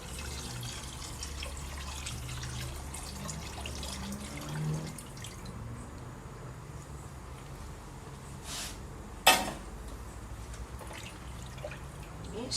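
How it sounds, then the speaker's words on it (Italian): Water trickling and pouring into a pan of sardines in savor after the vinegar, a soft steady flow with a sharp clink partway through, faint overall. "Allora dopo l'aceto metto acqua."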